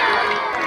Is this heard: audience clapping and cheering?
yes